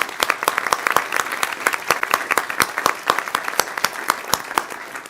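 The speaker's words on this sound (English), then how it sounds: "let's give our teachers a round of applause" A modest audience at a school board meeting applauds teachers, a thin spread of individual hand claps with distinct, separate hits rather than a dense roar.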